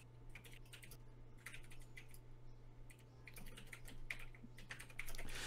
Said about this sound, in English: is me furiously typing